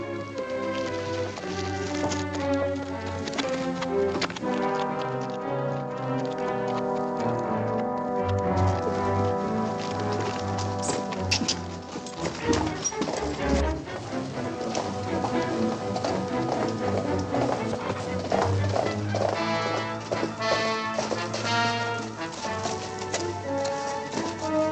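Horses' hooves clip-clop through a western frontier town near a saloon, steady rhythmic hoofbeats sitting beneath loud, continuous orchestral film music for the whole stretch.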